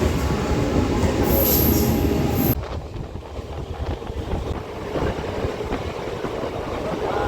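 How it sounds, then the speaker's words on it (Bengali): A train pulls into a station on the route toward Mayapur, arriving with a loud, steady rumble of wheels and cars that drops to a quieter, continuing roll partway through. "নির্ধারিত সময়ের বারো মিনিট লেট করে ট্রেন আমাদের স্টেশন ঢুকছে"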